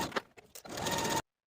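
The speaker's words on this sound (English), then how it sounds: "we're going to edge stitch close to this inner fold all the way across" A brief burst of sewing machine stitching along the hem of a linen jacket, edge stitching close to an inner fold, with a few short taps before a steady run that cuts off abruptly.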